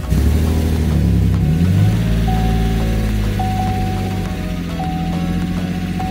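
A truck engine cranks and catches after a jump start from a portable booster box, then settles into a loud, close idle as a steady high tone chirps on and off over it.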